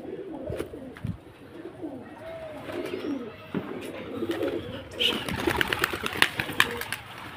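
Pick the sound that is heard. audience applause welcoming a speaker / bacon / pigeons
pigeons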